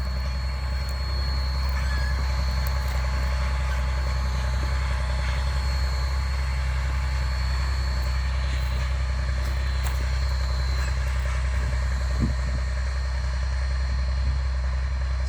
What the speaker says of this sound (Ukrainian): таким сівалка Джон Дір з трактором Джон Дір